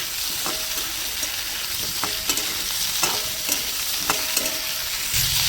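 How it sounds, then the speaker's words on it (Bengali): Cauliflower pieces lightly frying in oil in a pan, a steady sizzle with several scraping stirring strokes at regular intervals, close up with no talk. "ফুলকপিটাকে হালকা করে কোনো রকম একটু ঝলসে নেব।"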